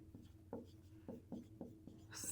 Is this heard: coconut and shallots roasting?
no